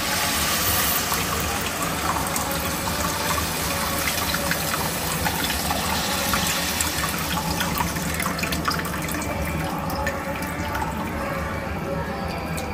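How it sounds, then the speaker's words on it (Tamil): Tamarind water pours steadily into a pot in a home kitchen, a continuous gushing, splashing flow that holds up close for the whole stretch. "புளி ஊத்திக்கணும்ல."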